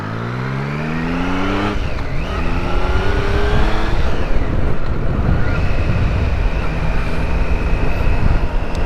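A motorcycle on Michelin Pilot 5 tyres rides along the road, its engine rising through the gears with shifts and a steady drone, loud and close, with no talk over it.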